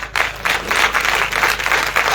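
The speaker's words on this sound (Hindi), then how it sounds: "जोर से ताली बजाएंगे।" An audience at a church Christmas celebration claps loudly, a dense, close burst of applause from a crowd that carries on steadily for a couple of seconds.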